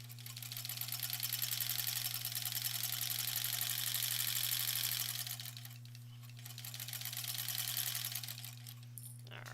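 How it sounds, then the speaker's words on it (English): A sewing machine stitching quilt blocks together into rows, running continuously at a steady speed with a constant motor hum, close and fairly loud, easing slightly in the middle before picking back up. "then we'll sew the ones that we were doing up here"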